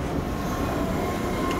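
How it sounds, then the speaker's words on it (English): A train passing in the video game Half-Life 2, a steady, loud rumbling roar with faint metallic wheel squeal running through it, continuous and close, no voices. "oh, there's a train going"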